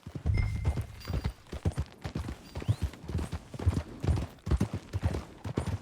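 Horse hooves clip-clop steadily in the Red Dead Redemption video game, with close, rhythmic hoofbeats at a walking to trotting pace and no talking.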